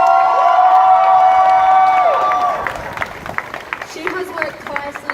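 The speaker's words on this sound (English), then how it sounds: "Alexis Stewart also deserves a massive round of applause" A crowd claps and cheers at a student strike protest in Newcastle. A long sustained cheer and whistling at first fade into scattered, lighter clapping and shouts.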